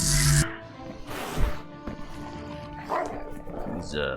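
Short yips and barks from a dog in the video game CHKN, heard close amid other game sounds, with someone talking around them.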